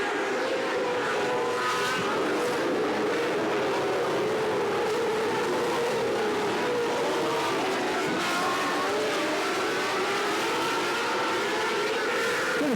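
Race cars roaring around the dirt oval at KAM Raceway, a dense, continuous engine drone from several cars at once, loud and sustained with shifting pitch as they circle.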